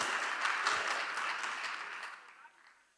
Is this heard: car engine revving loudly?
no